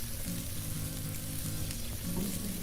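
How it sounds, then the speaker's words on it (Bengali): Fried cauliflower tossed with spices in a pan for a cauliflower curry gives a dense, continuous sizzle up close, with a low bubbling undertone and soft stirring scrapes throughout. "ভেজে রাখা ফুলকপিগুলো দিয়ে দেব। সবগুলোকে মশলার সঙ্গে মিশিয়ে দেব।"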